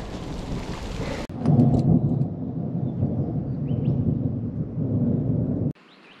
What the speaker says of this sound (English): Got a thunderstorm on the way out.